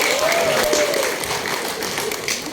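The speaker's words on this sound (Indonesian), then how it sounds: "Tepuk tangan semuanya." Applause from an audience at a political gathering, a dense wash of clapping that holds steady and slowly thins over a couple of seconds, with a faint voice briefly audible underneath.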